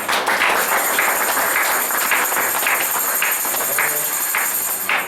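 A church congregation claps together in acclamation of the Lord during a French-language service, with dense, steady applause filling the room close and loud, with no voices over it.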